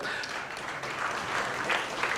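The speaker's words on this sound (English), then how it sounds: "Round of applause, please, ladies and gentlemen." Steady applause from a crowd at a stakeholders' roundtable, a dense wash of clapping that holds at an even level throughout.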